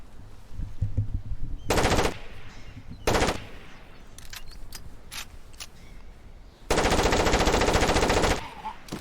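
Machine-gun fire in the video game Far Cry Instincts Predator comes in loud, separate bursts, one near two seconds and a longer sustained stream near the end, with quieter mechanical clicks and game sounds between.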